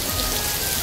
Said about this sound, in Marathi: आणि पाऊस पडतोय खूप जोरात.